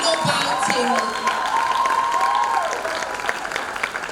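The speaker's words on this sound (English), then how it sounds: "with a resounding round of applause, let us make welcome Temilade Salami" An audience claps to welcome a speaker onto the stage at a talk, with a steady wash of applause, with music playing loudly alongside it throughout.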